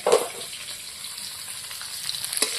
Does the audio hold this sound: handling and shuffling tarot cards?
no